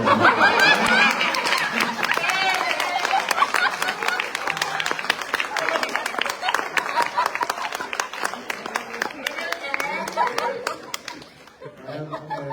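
An audience at a Teacher's Day poetry gathering claps in dense, sustained applause for about eleven seconds, mixed with chatter and scattered laughter, before it thins out and fades.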